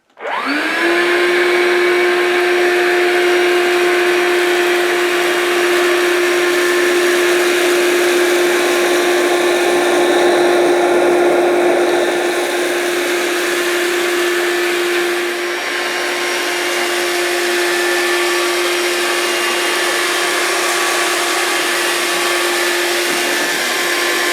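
Hoover Linx cordless upright vacuum cleaner running over carpet: a loud, steady motor whine with a rushing airflow hiss, starting abruptly and continuing unbroken for over twenty seconds, with slight shifts in tone as it moves.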